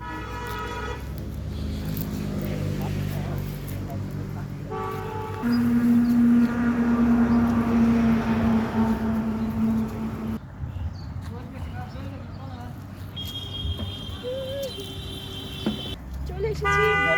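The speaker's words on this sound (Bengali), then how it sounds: "রাস্তার ধারে খুব ডিস্টার্ব করতেছে, গাড়ি ঘোড়ার আওয়াজ আসতেছে।" Roadside traffic beside a rose garden, passing vehicles rumbling with several loud car horn toots, some long and some short, spread across the scene.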